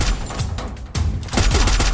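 Loud, dense rapid gunfire rattles in a Free Fire battle royale match, with overlapping bursts and impacts that run continuously with no pause.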